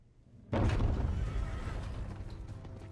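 A horse in a Game of Thrones spin-off episode, A Knight of the Seven Kingdoms, gives a sudden loud whinny that breaks out of near silence and trails off over a rumbling, noisy background.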